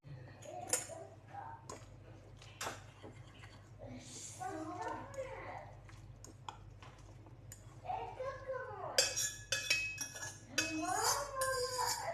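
A utensil stirs food in a pot with repeated metallic clinks and scrapes, loud and close. The clinks become busier near the end, and a voice and other talk are heard between and over them.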